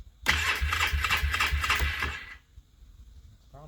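A small engine cranks on a cold first start with full choke, a loud rapid rhythmic chugging for about two seconds that stops abruptly, leaving quiet with a faint voice at the end.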